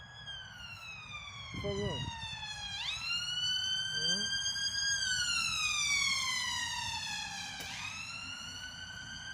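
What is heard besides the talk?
police sirens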